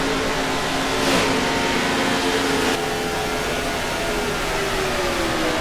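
Race cars roar around Daytona in NASCAR '15 as a steady, loud engine drone holds, with a brief surge of a passing car near the start and a falling pitch as the engines sweep by.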